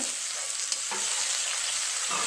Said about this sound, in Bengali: পেঁয়াজটা সুন্দর করে লাল লাল করে ভাজা করে নেব